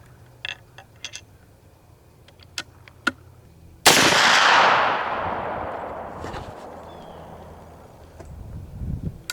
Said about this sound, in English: this first set we're going to shoot is our Sierra Pro Hunters